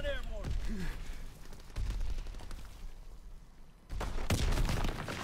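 Gunfire in the Call of Duty: WW2 video game comes in rapid bursts of shots, with a quieter lull in the middle, while a person talks over the action.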